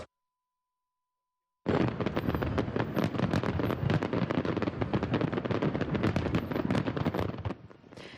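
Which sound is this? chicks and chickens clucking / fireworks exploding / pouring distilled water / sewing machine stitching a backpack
fireworks exploding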